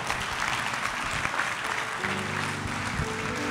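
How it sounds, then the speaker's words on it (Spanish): Church congregation applauding to honor God during a Spanish-language service, steady crowd clapping with sustained organ or keyboard tones entering partway through. "Y si usted quiere darle el aplauso al Señor,"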